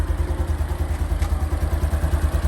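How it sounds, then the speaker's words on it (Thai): A Honda Wave 125i motorcycle engine, a 2023 model, idles close by, its low, even putter thumping in a steady rhythm with a faint mechanical clatter. "อันนี้เดินเบานะครับ"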